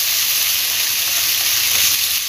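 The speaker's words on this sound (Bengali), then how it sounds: "একটু ভেজে নেব আদাটা।" Ginger paste frying in hot oil for a papaya curry, a loud, dense, continuous sizzle heard close and alone without pause.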